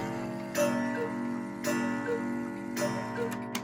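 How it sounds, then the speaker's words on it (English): A GHS spring-driven cuckoo clock strikes its gong three times at an even pace, each ringing note decaying over a soft mechanical background. "Really nice gong."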